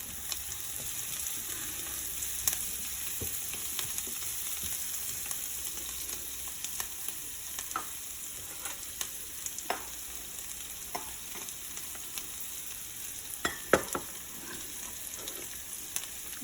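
Curry leaves and green chilli fry in hot oil with a steady, close sizzle and scattered sharp pops and crackles, with no voices.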